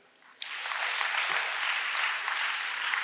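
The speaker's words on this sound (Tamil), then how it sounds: "கைதட்டுங்க." Audience applause at a Tamil public speech about the poet Bharathi bursts in suddenly and holds steady as a dense, continuous wash of clapping from many hands until the end.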